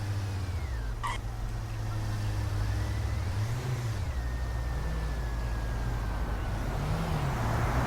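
A car rumbles at low speed and settles to a stop in Autobahn Polizei Simulator, its steady engine drone loud and close, with a high whine gliding across it and a short click near the start.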